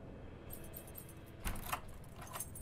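A small bunch of keys jangles close by in a quiet house at night, soft metallic clinks rising to a brighter rattle midway, with a few scattered jingles and no talking.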